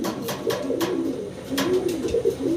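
Several white king pigeons coo in low, throaty bursts, two clear rounds of rolling calls close to the microphone with no talking.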